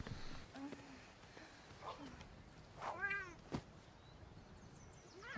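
A cat companion meows in a video game village, several short rising and falling mews, fairly faint, with soft background game ambience and a brief thump.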